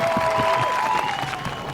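A high school commencement audience applauds, a brief burst of crowd clapping with a tonal whine over it that fades slightly toward the end.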